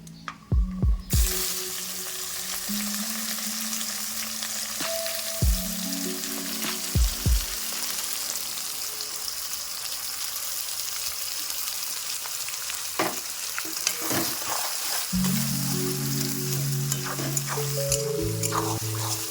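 Chopped onion sizzles steadily in a pan of hot oil for egg curry, a continuous close frying hiss broken by occasional clinks and stirring scrapes, with no talking.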